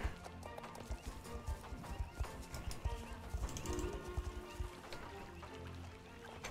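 Horse hooves clip-clop in the video game Star Stable Online, a Paso Fino horse's rapid, busy steps thudding continuously under a dense backdrop of game music and ambience.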